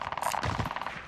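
Gunfire in the Warzone video game: a short, faint burst of rapid shots, heard alone.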